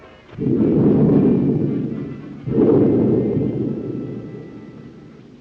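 Two deep, rumbling thunderclaps roll through a thunderstorm, the second arriving about two seconds after the first. Each one swells loudly and then fades slowly.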